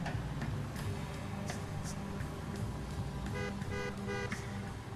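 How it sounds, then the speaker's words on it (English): Short car horn toots in the video game L.A. Noire sound in bursts over a steady engine hum and traffic noise, a few beeps clustered near the end. "Don't honk at me."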